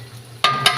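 Raw chicken going into a hot cooking pot, a sudden loud sizzling burst followed by a second hiss as more pieces land, sharp frying noise over a quiet background.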